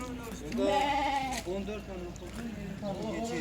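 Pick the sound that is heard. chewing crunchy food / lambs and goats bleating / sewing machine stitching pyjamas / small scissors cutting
lambs and goats bleating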